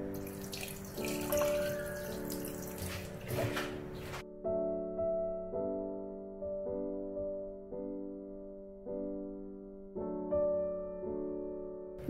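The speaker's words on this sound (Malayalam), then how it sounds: "ആവശ്യത്തിനുള്ള വെള്ളം കൂടി ഒഴിക്കണേ" Water is poured into a pot of mutton masala curry before it goes onto a medium flame, a short splashing pour followed by quiet resonant knocks and ringing tones from the pot, close by.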